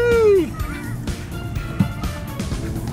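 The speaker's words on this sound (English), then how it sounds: "Oh, we got tyre squeal." A car's tyres squeal in a short rising-then-falling screech near the start during a spirited drive, followed by engine and road noise with a few knocks and a voice nearby.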